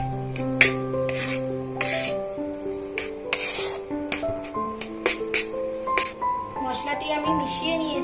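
Ginger and cumin paste is mixed for a pea kachori filling, with close scraping and rubbing of a spoon in a metal pot, irregular clinks and stirring strokes over steady background tones.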